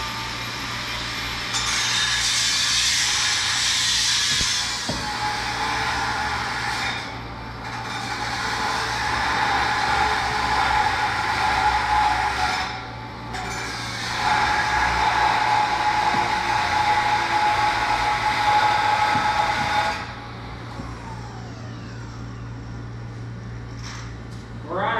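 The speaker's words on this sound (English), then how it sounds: "We're on a grinder wheel." A grinder wheel running near a John Deere 8700 chopper, giving a loud steady whirring roar in long bursts with short drops between them, over a constant low hum.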